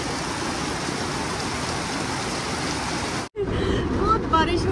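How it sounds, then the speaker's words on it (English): Dense rain hisses steadily, broken by a brief dropout, then resumes with what sounds like faint voices beneath the downpour. "again it started to rain"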